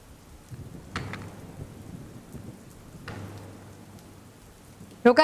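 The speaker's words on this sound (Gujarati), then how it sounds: "પાલનપુરમાં હજુ પણ ધોધમાર વરસાદ શરૂ છે" Heavy rain pours over Palanpur as a steady wash of noise, with low rumbles of thunder rolling in twice and a sharp, close clatter at the very end.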